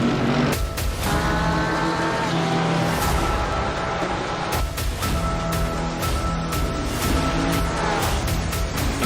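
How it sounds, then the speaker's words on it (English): GT3 race cars roaring around Zandvoort in a sim racing game, engines loud and close with revving pitch changes, several cars passing in quick succession and sharp bursts as they accelerate, no voices over the racing noise. "the cars are revved up and ready to go"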